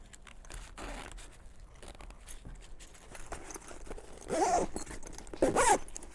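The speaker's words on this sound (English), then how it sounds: "So again, these two zippers access the same pocket." Zippers on the front pocket of a DSPTCH Ruckpack backpack, two short quick zipping pulls near the end after soft handling rustle, close and fairly quiet with no talking.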